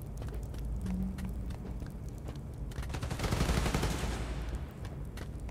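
Rapid bursts of gunfire in the Spider-Man: Miles Morales video game, a dense rattling volley swelling louder in the middle amid game noise, with no talking.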